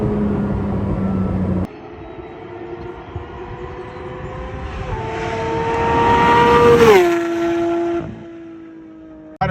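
Porsche 992 GT3 fitted with a Dundon 100% titanium muffler exhaust, a loud rising engine howl climbing through revs to a shrill peak, then dropping and holding a steadier tone before cutting off.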